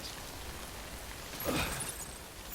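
Steady rain hisses down in the video game Death Stranding, a broad even wash of falling drops with a slightly louder swell midway, no voices over it.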